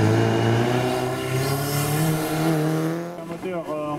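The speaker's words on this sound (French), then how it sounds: "avec le départ à l'instant de la Lancia Integrale" A Lancia Integrale rally car engine holds a loud, strained tone, then revs rise and fall sharply as it pulls away at a historic hill climb, with a voice heard over it.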